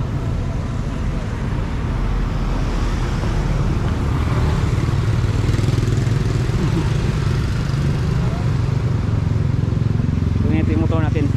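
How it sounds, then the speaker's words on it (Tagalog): A motorcycle riding along a city road in Davao, Philippines, its engine droning steadily and close throughout, with traffic noise around it and a rising whine near the end. "Ito yung motor natin."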